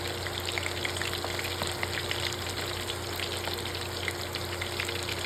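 Anchovy fritters (ukoy na dilis) frying in hot oil, a dense, even crackle and sizzle running steadily throughout, close and fairly loud, with a faint hum beneath and no talking.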